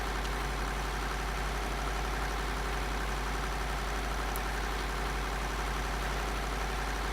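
Steady, droning engine hum of a tractor in the farming game Farming Simulator 2013, a continuous low idle-like rumble that holds constant throughout without breaks or voices.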